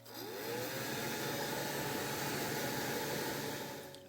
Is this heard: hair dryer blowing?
yes